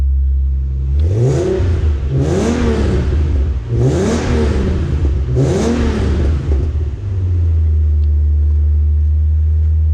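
Cold start of a 1993 Nissan 300ZX: the engine catches and settles into a steady idle, with four rising-and-falling rev swells close by before it drops back to an even low hum.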